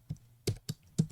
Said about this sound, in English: then I could start typing